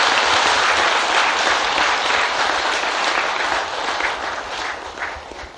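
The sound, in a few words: audience applause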